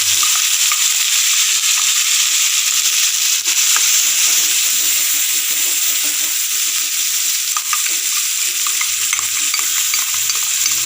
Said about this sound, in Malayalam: അരച്ച് വെച്ച തക്കാളി സോസ് നമുക്ക് അതിനകത്തേക്ക് ഇട്ട് കൊടുക്കാം